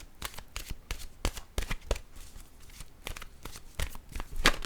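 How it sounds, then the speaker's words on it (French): Oracle cards from an intuitive-soul deck are shuffled and drawn, a quick, dense run of riffling and flicking card snaps close up, steady throughout with no voices. "Je vais piger une carte maintenant de mon oracle de l'âme intuitive"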